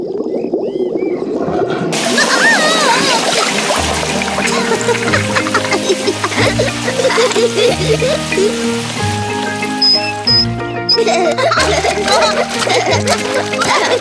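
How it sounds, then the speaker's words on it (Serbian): In an animated cartoon, a garden hose pours water into an inflatable rubber pool, a continuous splashing spatter layered under cheerful music with cartoon voices at the start. "a mama prase pušta vodu."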